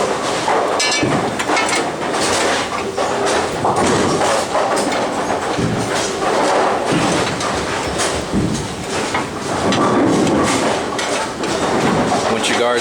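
An A-2 bowling pinsetter machine cycles continuously after a ball wheel belt replacement, giving a loud, busy mechanical clatter of clanks, rattles and sliding thuds that runs without pause throughout.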